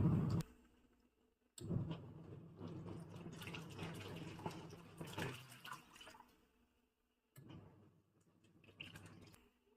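A low-cost mini washing machine drum turns clothes in water, producing bursts of sloshing and churning with soft clicks that stop and restart after short pauses.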